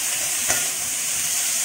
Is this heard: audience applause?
no